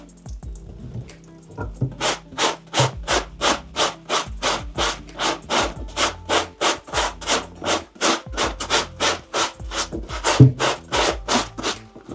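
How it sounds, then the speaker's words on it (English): Lucchese Kip leather boots brushed downward with dish soap, giving a close, steady series of rhythmic bristle strokes, about two per second, scrubbing and rubbing with no talk. "I prefer to just brush in one direction, so usually downward brushing like so."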